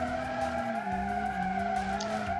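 Tires squeal in a long continuous skid as a car does donuts in BeamNG.Drive, a 1987 Toyota Corolla AE86 replica, with a steady engine drone beneath, close and sustained.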